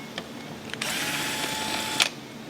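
A power driver backs out a Phillips screw from the third brake lamp housing of a 2012 RAM. A brief whirring burst lasts about a second, framed by a few small clicks and taps.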